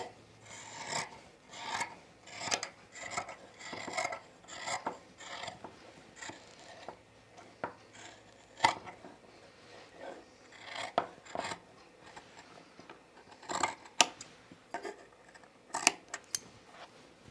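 Scissors snip and rasp repeatedly through Sophie dress fabric in uneven bursts of cutting, close and fairly quiet, with no talk.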